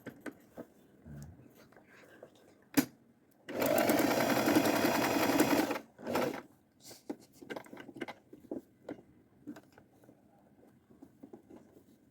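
A sewing machine stitches fabric in one loud, steady burst of rapid whirring of roughly two seconds. Quiet taps and rustles of the cloth being handled come before and after it.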